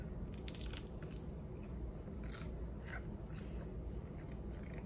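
Bibigo chicken dumplings and pork wontons being bitten and chewed close up, with soft crunching and wet squishing chews repeating over a steady background hiss.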